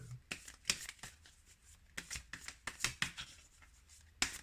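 A deck of tarot cards is shuffled up close in quick irregular riffles and snaps, a series of sharp papery bursts with faint talk in the background.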